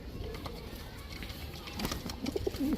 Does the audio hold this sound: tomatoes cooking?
no